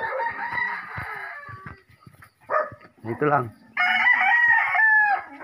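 A nearby rooster gives a loud, drawn-out crow at the end, after people speak briefly over scattered background sounds.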